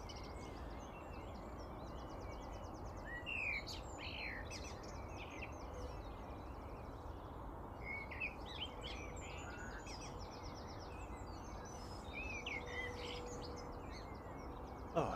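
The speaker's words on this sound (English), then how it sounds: "it feels very peaceful listening to the birds" Scattered bird chirps and short calls rise faintly over a steady low rumble of background noise at an airport, continuing throughout.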